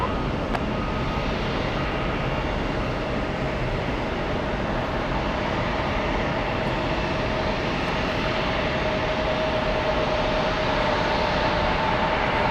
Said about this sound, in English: Big A380.